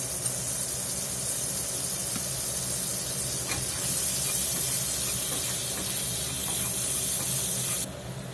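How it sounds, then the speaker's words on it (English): Butter and garlic sizzle in a hot skillet, a loud, steady broadband hiss that holds evenly for several seconds before dropping off sharply near the end, with no talking over it. "I'm gonna get us a little butter in the skillet. Just a little garlic in there."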